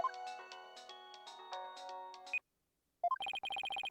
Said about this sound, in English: whenever I hear my ringtone, I get all sad for some reason